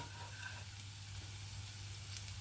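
Breaded chicken tenderloins coated in paprika sizzle in a large frying pan on a stovetop, giving a steady, quiet, even hiss throughout with no voices.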